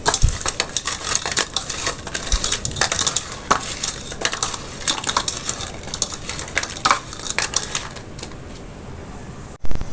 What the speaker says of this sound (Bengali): এখন চিংড়িগুলো ভালোভাবে ভেজে নেব